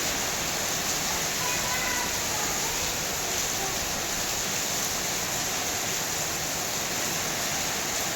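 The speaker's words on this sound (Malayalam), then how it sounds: "അടിപൊളി മഴയാണ്." Heavy, steady rain pours down in a dense, unbroken hiss that fills the whole stretch evenly and close by, with no distinct drops or pauses.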